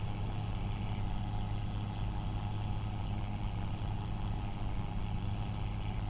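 A tractor engine in Farming Simulator 25 runs steadily at low RPM, a continuous low rumbling drone with a constant, even level throughout and no speech.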